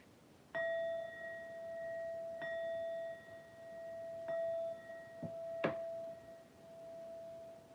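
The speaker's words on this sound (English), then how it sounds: "You get a bell for joining the stream" Livestream chat alert bell: four clear, ringing dings spaced about two seconds apart, each leaving a sustained metallic tone, with a short clank near the end, quiet and alone without talk.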